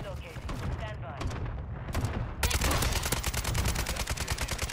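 An AK12 (Kastov 762) fires in Call of Duty: Modern Warfare III, a rapid automatic burst of sharp, evenly spaced shots in the second half after quieter mixed game sounds and scattered shots, with some talk underneath.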